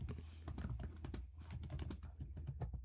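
Rapid, steady keystrokes on a computer keyboard while typing C++ code, a continuous quiet clatter of close clicks with no pause.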